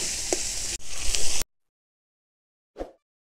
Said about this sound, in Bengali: এখন আমি মশলাগুলো ভালোভাবে কষিয়ে নেব।